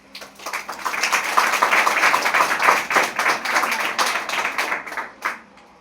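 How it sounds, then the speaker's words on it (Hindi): Students in a Hindi-speaking coaching class clap together, a dense, sustained burst of applause lasting several seconds before tapering off near the end. "इसलिए अपने लिए आप लोग ताली बजा लीजिए"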